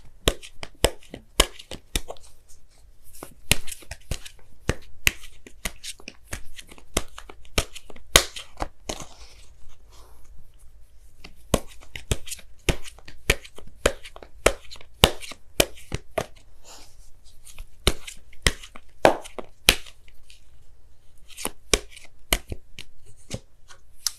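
A deck of oracle cards being shuffled and pulled by hand, a long run of crisp papery snaps and riffles that is close, fairly quiet and continuous, with brief pauses.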